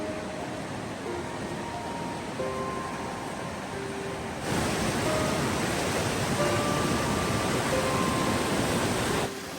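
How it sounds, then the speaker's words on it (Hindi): Rushing mountain river water running beside a flooded trekking path toward Upper Taobat in Neelum Valley, Kashmir, a steady broadband roar that swells louder midway, with faint tonal traces over it. "ये ऊपर से पानी आ रहा है, और ये हमारा जो ट्रैकिंग का रास्ता है वहाँ पर भी सारा पानी हो गया, और ये साथ दरिया चल रहा है।"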